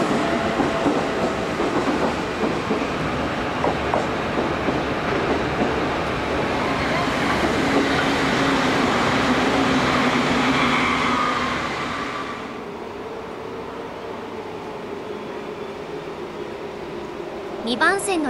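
A JR train on platform 2 bound for Mito rolls through the station with a loud rumbling, clattering run of wheels that fades to a quieter hum after about twelve seconds, ending with a sharp brief squeal.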